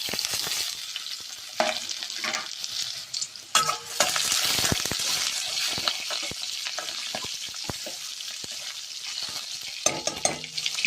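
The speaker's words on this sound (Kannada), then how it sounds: "ಎಣ್ಣೆ ಪಾಡ್ದೆ ಬಣಲೆಗ್ ನೆಕ್ಕಿತ್ತೆ ಫಸ್ಟ್ ಒಂಜಿ ನೀರುಳ್ಳಿ ಪಾಡ್ಗ ನೀರುಳ್ಳಿ ಫ್ರೈ ಆದ" Sliced onions fry in hot oil in a pan, a continuous bright sizzle broken up by scraping stirs and the occasional clink of a spoon against the pan, with no one speaking.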